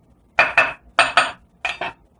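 Inverted donut-shaped bath bomb molds are tapped on a hard surface in three quick pairs of sharp, hollow plastic knocks, close and fairly loud, with quiet between them.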